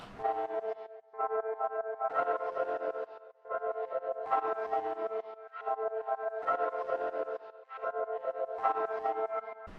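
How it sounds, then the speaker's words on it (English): Piano chords chopped by a gated LFO effect and shaped with dynamics processing, pulsing in rhythmic bursts of stuttering sound with short gaps between phrases, played alone. "So these are the two plugins that I added to this piano sound that makes it sound like this"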